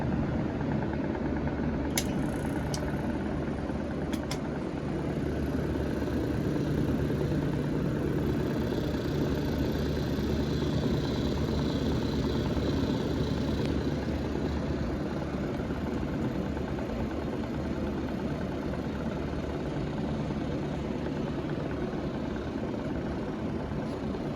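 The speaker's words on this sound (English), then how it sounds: "So let's go with first compressor." The compressor of an early 1950s Frigidaire refrigerator runs with a steady low hum and mechanical drone that holds unchanged for the whole stretch, close and continuous, with no talking.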